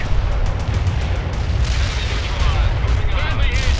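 Mortar shells exploding during a World in Conflict battle, a dense run of deep booms and rumbling blasts that keeps going the whole time, close and loud, with shrill higher whistles cutting through in the second half.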